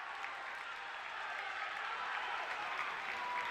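A basketball crowd at a boys high school game between Durfee and New Bedford cheers and applauds steadily after a made floater, a dense, sustained roar filling the gym.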